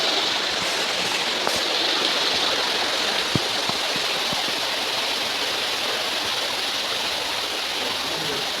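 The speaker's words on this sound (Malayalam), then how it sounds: "അതേ സൗണ്ട് വെറൈറ്റി സെറ്റാണ്. നല്ല വെള്ളച്ചാട്ടം." An artificial waterfall at the Nilambur teak museum gives off a continuous, even rush of falling water, heard close and alone.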